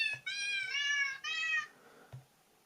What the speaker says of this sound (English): It's a piano that sounds like a cat.